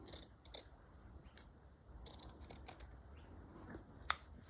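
Scissors trim fabric for a bunting flag in quiet close-up snips, a handful of short crisp cuts in irregular bursts, with a sharp click near the end.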